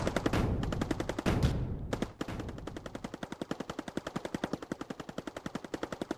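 Rapid automatic gunfire in a base-building video game, a loud burst that breaks off and resumes as a fast, even stream of shots, with no talk.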